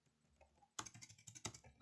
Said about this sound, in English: what I'm going to do is I'm going to type in cards ID